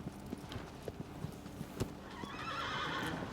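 In Shadow of the Colossus, a horse's hooves clip-clop in a quick galloping rhythm, then the horse neighs with a drawn-out whinny near the end, fairly close.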